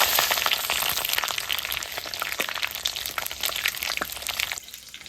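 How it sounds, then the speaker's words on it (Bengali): Dried red chillies, five-spice and bay leaves hitting hot mustard oil for tempering, a loud continuous crackling sizzle with fizzing pops that eases off near the end. "তেল গরম হয়ে গেছে, এবার ফোড়নের দিয়ে দিলাম।"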